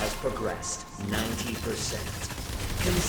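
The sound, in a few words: gunfire from the video game ExoPrimal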